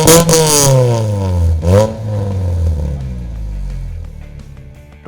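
Modified Toyota Corolla GLI with a swapped-in 2ZZ engine revving hard, rising and falling in two sharp throttle blips before settling into a loud, rough idle up close, with no talking.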